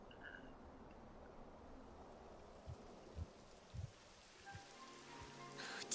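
Rain falls in the Dragon Quest XI video game, a soft continuous patter of drops on surfaces with a few low thuds, steady and moderately quiet throughout.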